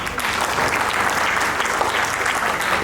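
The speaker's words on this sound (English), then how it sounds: "So you can also clap for yourself" Steady audience applause fills the room at an Indo-global business entrepreneurship conclave, a dense, even wash of many hands clapping at constant loudness throughout, with no pauses.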